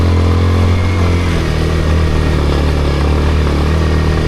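A motorcycle's engine drones loud and steady throughout while riding, a constant close mechanical hum with no pauses or speech.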